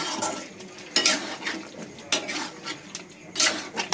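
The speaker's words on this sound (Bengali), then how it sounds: "লবণটা একবার সমস্ত গ্রেভির সাথে আমি মিক্স করে নেব।" Salt being stirred into a Mughal chicken curry gravy in a pot: a spoon scraping and clinking against the metal pot in irregular close bursts, with no talk.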